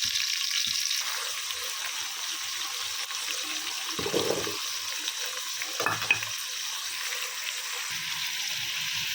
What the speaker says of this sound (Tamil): காயெல்லாம் நல்லா கிளறி விட்டுக்கலாம்